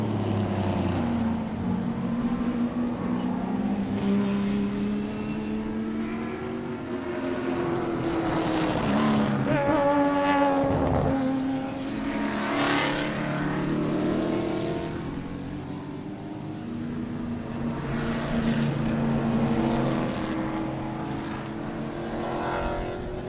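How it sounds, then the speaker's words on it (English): GT race cars, including a small Mustang, pass under power on their second lap at Sebring, a loud sustained engine roar that swells and dopplers down as the pack sweeps by, with no talk. "there's your GT cars coming through on their second lap under power"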